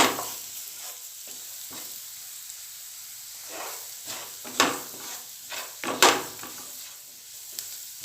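Pizza sauce with pepper powder and Kashmiri chili powder stirred in a hot frying pan, steady sizzling hiss broken by scraping spoon strokes that grow louder toward the end, no voices.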